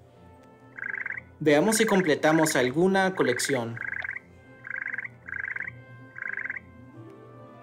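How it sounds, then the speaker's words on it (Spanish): A chocolate frog in the Harry Potter: Hogwarts Mystery video game gives a series of about eight short, evenly spaced croaks, loud and close, with a spoken sentence overlapping the early ones. "Veamos las ranas de chocolate."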